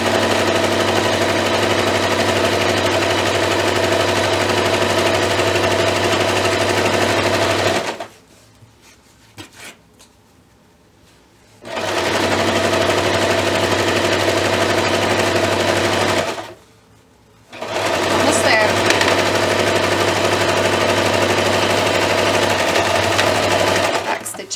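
Sewing machine running a long straight seam joining maroon and black fabric for a wizard robe, a loud steady mechanical whir that stops twice for a few seconds, then starts again.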